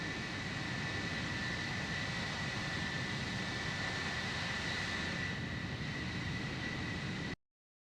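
An F-4 Phantom's jet engine in a cold-war air-combat video game roars as a steady, loud, broadband rush with a thin high whine running throughout, continuous and unchanging until it cuts off abruptly near the end.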